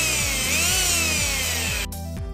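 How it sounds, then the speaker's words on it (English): A power drill boring through a synthetic gecko-hand climbing pad to attach rope, with a steady loud whine and repeated rhythmic grinding pulses as the bit bites, then cuts off near the end. "I need to try and drill all the way through and attach some rope to it"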